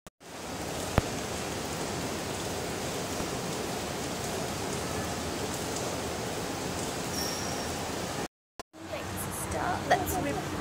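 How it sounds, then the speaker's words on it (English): Rain falling outdoors on a city evening, a dense, steady hiss of drops on surfaces that continues with a brief cut near the end. "It's starting to rain."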